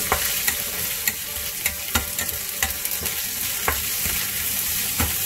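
Golden garlic and thin slices of meat fry in a hot pan, giving a loud, continuous sizzle punctuated by regular clacks and scrapes of a spatula stirring close by.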